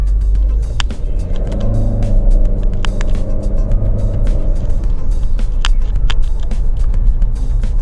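A Chery Tiggo 4 Pro car accelerates through the gears, its engine a steady low rumble from inside the cabin with rising tone, plus scattered clicks and light knocks over the drone.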